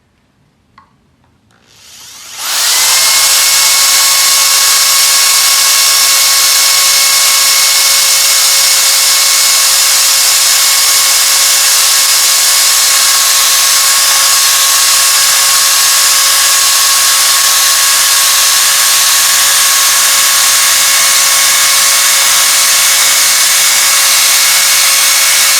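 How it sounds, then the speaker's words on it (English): A drill bit whines steadily as it cuts a notch into a metal rivet on an RV dump hose holder, a loud continuous tonal drone starting after a quiet moment and holding unbroken to the end. "I'm going to hopefully make a little notch right here with this drill bit"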